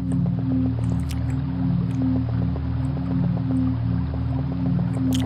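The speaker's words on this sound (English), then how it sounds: "Peaceful water sounds." Calm water ambience in the game Yume 2kki: a looping, synthetic drone with soft rhythmic dripping and bubbling tones repeating at an even pace, plus occasional faint high plinks.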